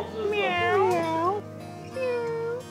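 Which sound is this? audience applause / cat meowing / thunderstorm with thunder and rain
cat meowing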